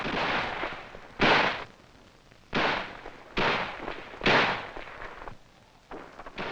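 An M16A1 rifle fires five sharp, loud single shots at uneven intervals of about a second, each with a brief ringing tail, with no talk over them.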